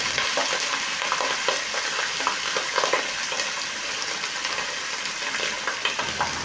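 Ginger, garlic and onion frying in a pan as the base for cucumber stew, stirred: a dense, loud crackling sizzle fills the whole stretch, with light scraping of the spoon mixed in.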